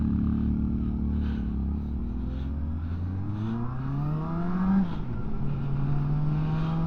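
A 2025 Benda LFC700 motorcycle engine accelerates hard with a loud raspy exhaust, its pitch climbing steadily through the gears with a brief dip near the end before rising again, heard close and continuous.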